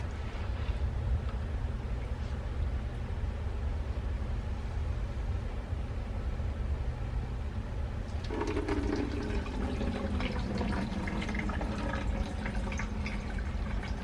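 Clay slurry is stirred in water to refine clay for dorodango and casting molds, steady sloshing and swirling throughout, with a burst of brighter splashing agitation in the second half.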